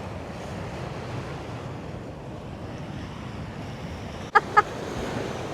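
Ocean waves wash up onto sand along the coast between Warrnambool and Port Fairy, a steady broad surf roar with wind rumble, joined near the end by two short sharp knocks.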